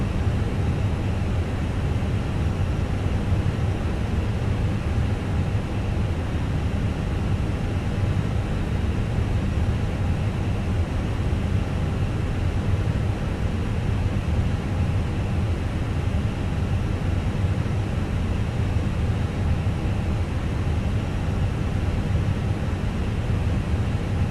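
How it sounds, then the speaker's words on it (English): Airbus A320 with sharklets in Microsoft Flight Simulator, engines running after start at Dublin, giving a steady broadband roar with a low hum that holds evenly throughout, no talk over it. "We have a good engine start."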